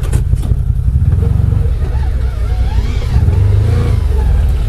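CF Moto UForce 1000 off-road vehicle engine running close and loud while reversing, a steady low rumble with slight rises in revs and no spoken words.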